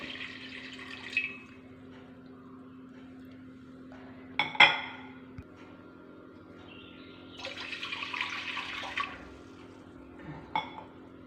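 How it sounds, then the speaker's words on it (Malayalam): Water poured from a cup into a cooking pot in a home kitchen, with short trickling bursts, a sharp clink of the cup against the pot and a faint steady hum in the background. "2 കപ്പ് വെള്ളം ഇതിലേക്ക് ഒഴിക്കാം."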